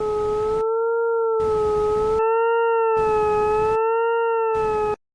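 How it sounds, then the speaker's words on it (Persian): Synthesized tone tracing the graph of sine x: a sustained electronic pitch wavers gently up and down while bursts of hissy noise switch on and off in a regular rhythm, cutting off after five seconds. "یا این مثلا سینوس xه"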